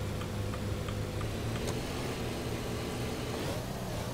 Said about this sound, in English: Y'all see me spinning tires right there?